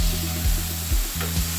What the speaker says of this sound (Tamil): சேனக்கிழங்கோட பூவை போட்டுட்டு கொஞ்சம் நல்லா மிக்ஸ் பண்ணிக்கோங்க.